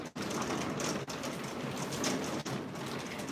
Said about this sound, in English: I can hear it so well, I keep looking out my own window and expecting to see rain.